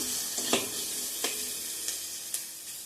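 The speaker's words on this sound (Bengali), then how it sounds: "মাছটা আর একটু গরম করে নেব মাছ ভাজাটা" Fried fish reheats in a pan under a soft, steady sizzle, with a few short scraping taps from a spatula.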